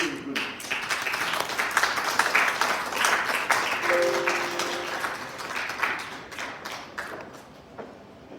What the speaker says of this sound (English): so just an extra round of applause for expressing yourself